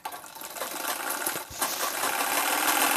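A sewing machine joins panels of a six-panel saree petticoat with a steady, close whirring run of stitches that builds slightly after a brief start and continues without pause.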